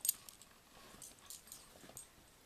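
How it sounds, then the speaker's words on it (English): A dog in a room gives a short, faint whimper, brief soft sounds close by with light jangling ticks and no speech. "I apologize for my dog there."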